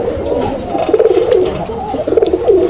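A male Raj-Golla pigeon gives repeated throaty coos, close and loud, in two or three rolling phrases with no talking over them.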